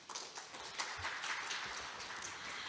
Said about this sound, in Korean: 발표와 토론을 함께해 주신 발표자분들과 토론자분들께 모두 큰 박수 부탁드립니다.